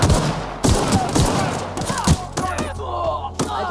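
Gunfire from a shootout in the video game The Outer Worlds, with repeated loud shots and bursts at close range throughout.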